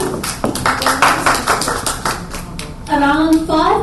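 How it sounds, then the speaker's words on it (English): Audience clapping at a conference session, a run of sharp irregular claps, fairly loud and close, with a voice starting to speak near the end. "Claps for that to India."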